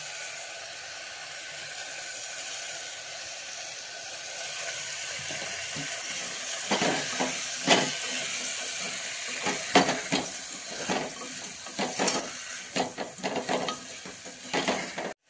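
Basmati rice sautéing in hot tempering oil for a pulao with ivy gourd and white chickpeas, a constant hiss joined midway by sharp scraping stirs and clinks against the pan.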